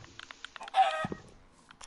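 A Minecraft chicken inside a shelter gives a few short, close clucks with a brief squawk in the middle, heard alone against near silence.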